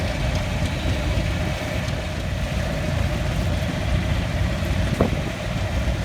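A 1983 model 111 lawn tractor without its deck, driven in a tractor show parade, with its engine running steadily at a constant, rumbling pitch amid outdoor noise.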